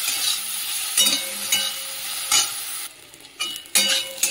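Soybean chunks fry in oil seasoned with salt and turmeric, giving a steady close sizzle broken by several scraping stirs and light utensil knocks, with a brief quieter dip near the end.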